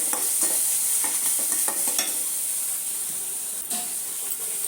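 Spice masala for a prawn and potato curry fries in a pan with a steady bright sizzle, while a spoon scrapes and taps in quick irregular strokes up close.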